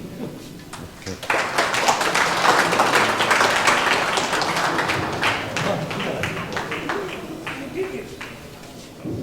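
Audience applause at a painting exhibition: dense, sustained clapping from a crowd that swells after a second, holds steady, then thins slightly toward the end, with a voice talking underneath.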